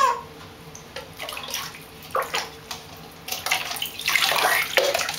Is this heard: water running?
yes